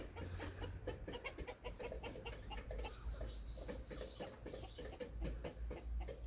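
Hens clucking and chattering together in a backyard coop, many overlapping calls forming a steady, busy texture with low rumbling noise underneath.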